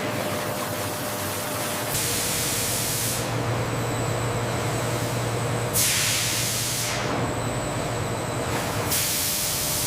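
Water jets spray over raspberries on a factory washing line, a steady broadband hiss that surges in and out in long bursts over continuous machinery hum, with no voices.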